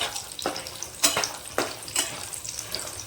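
Bori lentil dumplings frying in a pan for a vegetarian ridge gourd and potato curry, a steady close sizzle punctuated by several sharp crackling bursts and stirring scrapes, with no talking.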